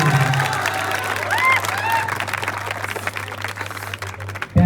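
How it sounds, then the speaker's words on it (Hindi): An audience at a school farewell party for class 12 claps continuously, a dense, steady patter of many hands with some crowd murmur throughout. "अपनी तालियों से इस मंच को हौसला देते रहना"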